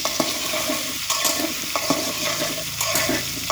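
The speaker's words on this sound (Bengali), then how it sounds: "এখন আমি আলুগুলো ভেজে নেব।" Potatoes frying in a pan over a wood-fired stove, a loud continuous sizzle broken by repeated scraping strokes of stirring, close and without talk.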